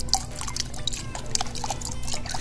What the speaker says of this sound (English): My primer's pretty liquidy. I'm just gonna dilute it,